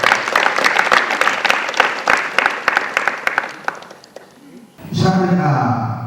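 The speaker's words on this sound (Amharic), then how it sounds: "አንድ ጊዜ ሞቅ ባለ ጭብጨባ" Warm applause from an audience at an honorary award ceremony, a dense burst of many hands clapping for several seconds that fades out, followed by a resonant tone or voice.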